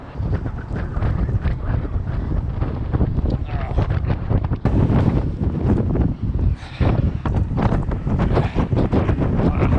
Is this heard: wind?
yes